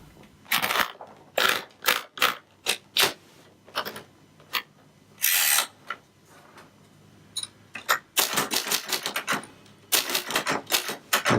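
Sharp clacking keystrokes on a 1960 Royal Futura 800 manual typewriter, close and loud, arriving in uneven bursts and pauses, with quick runs of strikes toward the end.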